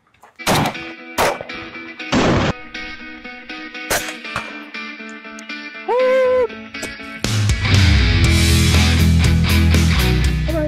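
Five sharp, loud shots ring out one at a time with pauses between them from a PSA Jakl 8.5-inch 300 Blackout pistol fitted with an LPVO scope, fired at a 100-yard range.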